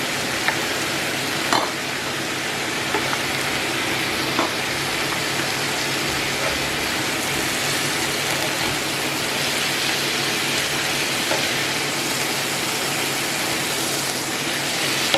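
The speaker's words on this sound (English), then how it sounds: "I'm literally just going to crispen the fat up just a little bit more." Lamb chops fry steadily in a hot pan, fat crisping with a continuous dense sizzle and crackle, close and fairly loud, with occasional soft pops and no voices.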